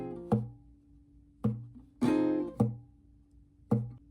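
Sparse, spaced acoustic guitar chord strikes close out a song, each left to ring before the next, with one quicker double strum in the middle; near and clean, without speech.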